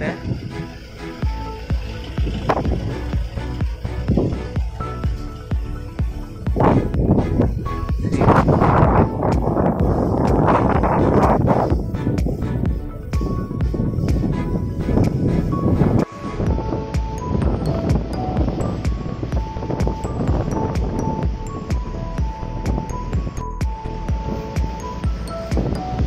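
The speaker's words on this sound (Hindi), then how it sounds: "बहुत ही बढ़िया फर्स्ट क्लास हवा चल रही है, फेरी में बहुत मज़ा आ रहा है।" Strong wind gusts over the microphone on a ferry travelling to Koh Lanta Yai in Krabi, a continuous rough roar with boat and water rumble underneath, loud and close throughout.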